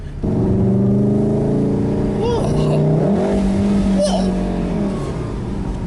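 An Audi S3 or Golf R engine in race mode revs hard from inside the car, a loud, steady growl with pitch rising and falling, while people talk and exclaim over it.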